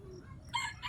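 Young gamefowl rooster crowing close by, a short, hoarse half-crow that breaks in partway through over a quiet background.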